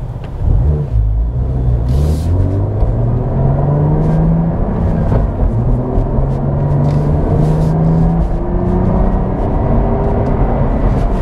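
A 2022 Cadillac CT4-V Blackwing with a six-speed manual accelerates hard from a standstill toward sixty, its engine note climbing loud and close through the gears with a brief shift break and no talking.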